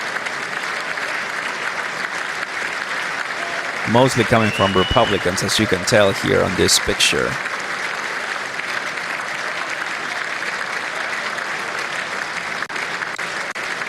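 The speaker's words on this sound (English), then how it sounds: "That's a big, long clapping session" Members of Congress at a State of the Union address keep up long, steady applause throughout, a continuous dense clapping bed. Someone talks over it for a few seconds in the middle.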